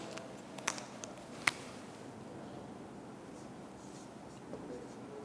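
Marker or chalk writing on a board during a Class 10 maths lesson, a few faint scratchy strokes and taps early on, then a quiet room with low background hiss.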